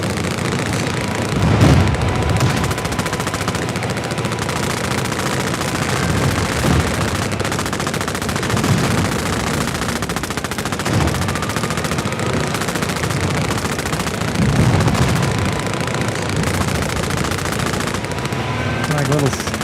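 Sporadic machine-gun bursts and single gunshots from a video game firefight, with occasional booms, crackling continuously at moderate loudness with a few denser flurries.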